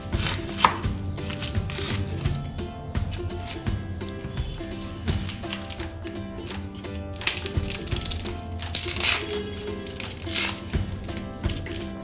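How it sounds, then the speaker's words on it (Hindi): A knife chops onion and garlic for butter chicken, giving rapid, irregular close-up chops on a cutting board that continue steadily with occasional louder strikes. "प्याज हम चॉप कर लेते हैं, लहसुन प्याज दोनों को।"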